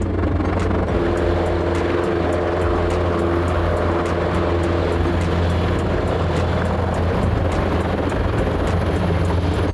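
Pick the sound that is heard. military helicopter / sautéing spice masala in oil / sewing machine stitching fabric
military helicopter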